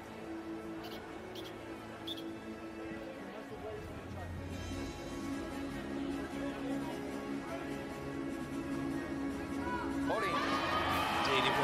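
Crowd at a women's volleyball match between USA and Germany cheers steadily, swelling louder toward the end with whoops and shouts, while a commentator talks over the noise.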